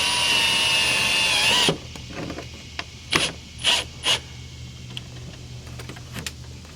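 A power tool whirs steadily while tightening headlight assembly bolts on an 8th-generation Toyota Camry (2018-2024), then stops abruptly, leaving a few short ratcheting bursts and quiet clicks.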